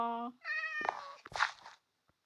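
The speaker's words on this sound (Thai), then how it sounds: "นี่เสียงแมวมาจากไหน" A cat in Minecraft meows several times in quick succession, clear and close, the calls rising and wavering before fading to silence.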